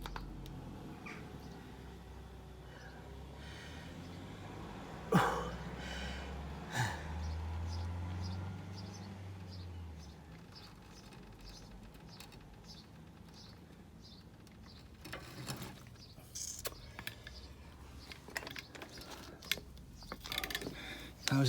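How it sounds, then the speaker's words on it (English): Front axle of a Ford Cortina Mk3 2000E being lowered off its rubber mounts in a home garage, a sharp knock followed by a low rumble, then scattered faint creaks, ticks and clicks. "There's a bit of noise then because it's coming off its rubber mounts."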